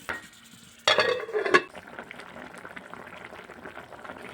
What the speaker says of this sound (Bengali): এবার দিয়ে দেবো পরিমাণ মতো জল ঢাকনা চাপা দিয়ে রান্না করে নেব